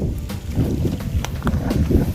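Strong wind blows outdoors in a wild vegetable garden, gusting and buffeting the microphone in loud, rumbling surges with a rough low roar and no voices.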